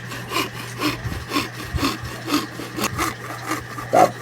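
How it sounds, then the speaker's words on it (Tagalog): Hand saw cuts through animal horn to shape a comb, a steady back-and-forth rasping in about eight even strokes, close and loud with a low hum underneath. "Lagari na, lagari."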